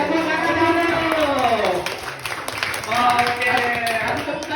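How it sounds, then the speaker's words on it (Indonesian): Schoolchildren in a primary school classroom clap and applaud, a brisk patter of many hands mixed with excited voices and chatter, close and fairly loud. "Wih, tepuk tangan dulu."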